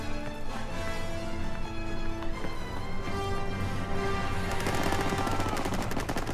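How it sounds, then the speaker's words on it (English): Gunfire from the Call of Duty video game, rapid bursts of shots over a continuous dense battle din, steady and fairly loud throughout, with no talking. "What are they shooting at?"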